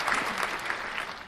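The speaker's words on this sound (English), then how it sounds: "round of applause for Carter James" A studio audience applauds a podcast guest, Carter James, in a brisk, full burst of many hands clapping close by with a faint murmur under it.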